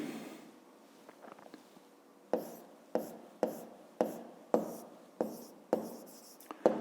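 Handwriting with a pen on paper while solving a fifth-grade maths exercise: faint scratching at first, then a steady run of crisp taps and short strokes, close and quiet.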